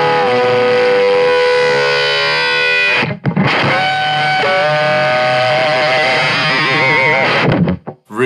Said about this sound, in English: This is a single band fold back distortion.